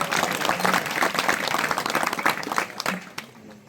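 Loud, dense applause from an audience at a Konkan folk performance in Talavali, Guhagar, steady clapping filling the whole stretch with faint crowd noise beneath, tapering slightly at the end.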